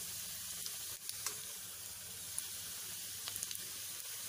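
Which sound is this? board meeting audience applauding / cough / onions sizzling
onions sizzling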